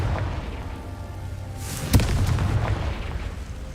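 A Confringo fire spell explosion in the video game Hogwarts Legacy lands as one sharp, punchy boom midway, set against a steady low rumbling game backdrop that carries on after the hit.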